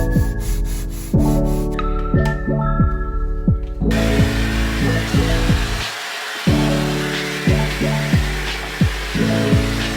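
Wooden shelving inside a small linen closet is sanded down, giving loud, close, steady whirring broken by rhythmic back-and-forth rasping strokes, with no voices.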